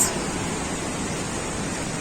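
The Mandakini river rushes at Sonprayag on the Kedarnath route after heavy overnight rain, a continuous broadband roar of fast water, steady and close.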